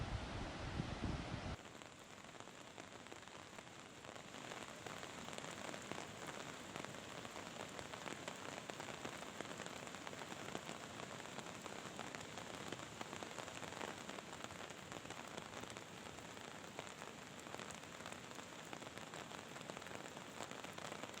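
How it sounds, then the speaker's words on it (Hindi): Steady rain falls in Barkot in the Yamuna valley, a dense, even patter on surfaces that carries on throughout without a break. "बारिश भी हो रही है"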